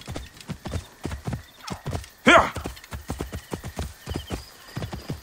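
Hooves of a horse clip-clop at a steady trot in the video game Assassin's Creed Origins, crisp and close, with a brief loud whinny partway through.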